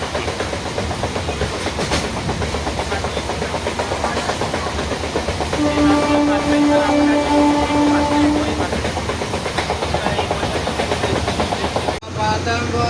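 A passenger train rolling along the rails on the Jaleswar–Balasore route, heard from inside as a loud, steady rumble with clickety-clack rhythm and a sustained horn-like tone midway, under faint talk.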